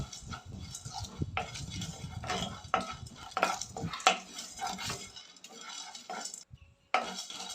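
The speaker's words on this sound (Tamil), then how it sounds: "ஆயில் சேர்க்காம ட்ரை ரோஸ்ட்டாக பண்ணிக்கோங்க வறுத்து" Whole cinnamon and cardamom dry roasted in a pan without oil, spices rattling and scraping against the metal as they are stirred, in irregular close clatters with short pauses.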